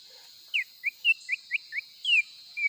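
A green songbird, the ijo babon, gives a series of about eight short, clear whistled chirps in quick succession. The calls are near and loud over a faint steady high hiss.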